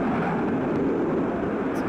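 A Su-25 attack jet roars overhead in the WARNO real-time strategy game, a steady loud broadband engine rumble sustained throughout with a faint voice in the background.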